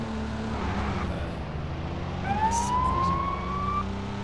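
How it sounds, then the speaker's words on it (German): A police car siren in the LEGO City Undercover video game gives a clear rising wail over a low rumble of car engine and road noise. "Ah ja, das war die Sirene hier."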